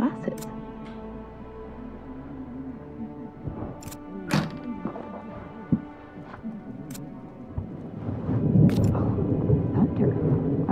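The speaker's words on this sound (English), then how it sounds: "Storm tonight." A thunderstorm in the video game 12 Minutes: a deep rolling thunder rumble swells near the end, after quieter scattered knocks and taps, with someone speaking over it.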